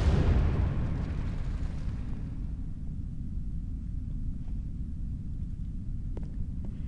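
A video game explosive charge detonates in a loud burst at the start, decaying into a long, low rumble that lingers for several seconds.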